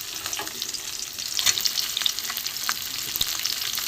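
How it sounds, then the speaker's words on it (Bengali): Chopped garlic and onion fry in a pan with a continuous sizzle, punctuated by light scraping stirs and small crackling pops, close and moderately loud with no speech. "রসুন কুচিটা আমি এই পেঁয়াজের সাথে ভেজে নেবো"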